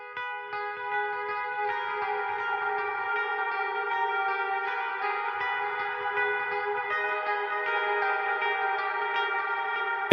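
Sustained electric guitar chords through the Toneforge Jeff Loomis amp plugin ring out drenched in reverb and echo, the notes blooming and overlapping into a shimmering, spacious wash.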